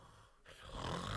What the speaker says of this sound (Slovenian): Neverjetno, kako močno smrči uboga stara žena.